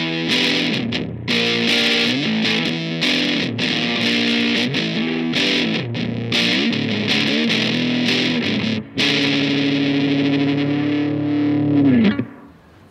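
Crunchy, distorted electric guitar chords chug through a Supro amp on a crunch setting in choppy bursts, ending on a long sustained note that cuts off.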